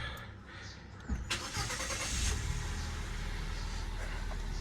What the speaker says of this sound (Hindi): थोड़ी देर गाड़ी स्टार्ट करते हैं।